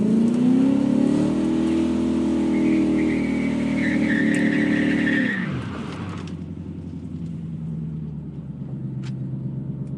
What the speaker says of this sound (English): I'm gonna have to let it eat on this burnout here.